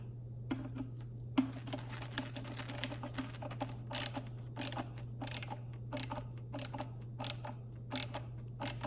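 Ratchet clicking in quick bursts while tightening the Allen-head button-head bolts on a mass airflow sensor of a Mustang GT cold air intake, close and moderately loud over a steady low hum, no talking.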